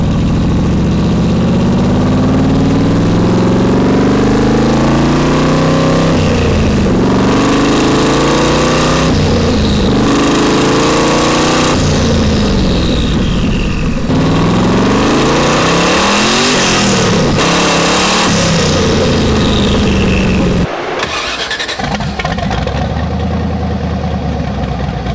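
A twin-turbo LS V8 swapped into a Nissan 240SX runs on the road, loud and close, revving up repeatedly in rising sweeps with gear changes between pulls, then dropping to a rough idle near the end.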